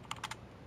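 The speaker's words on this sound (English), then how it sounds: "Let me type in the same thing again." A few quick taps on a computer keyboard while entering a command, three soft keystrokes in rapid succession, faint and close, with no talking.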